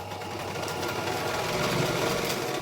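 A sewing machine runs in one steady, continuous burst, stitching and locking a seam on a blouse, with a close, even mechanical whirr throughout.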